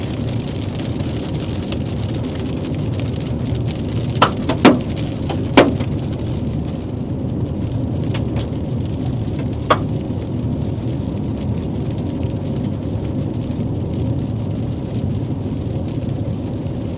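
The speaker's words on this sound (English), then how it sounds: "We're right on the edge of this hail core." Hail and rain pelt a storm chasers' car on the edge of a Texas hail core during a tornado outbreak, a constant loud roar of rain with several sharp, isolated hailstone impacts against the vehicle.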